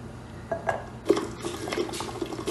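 Tomatoes cooking for a chicken stew splash and bubble in a pot on the stove, giving soft liquid pops and spatters close by, with a couple of sharper splashes and no talk.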